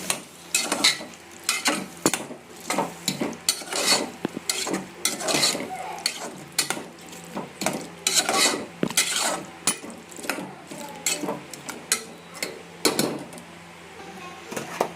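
A spoon scrapes and knocks against a pan in a quick, irregular rhythm, stirring medium-cut potato curry while it sizzles faintly underneath, close and fairly loud.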